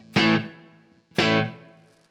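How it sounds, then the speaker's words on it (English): Electric guitar through a tight reverb, two loud distorted chord stabs about a second apart, each ringing briefly and decaying quickly into a short, natural-sounding room tail. "this is a really tight reverb"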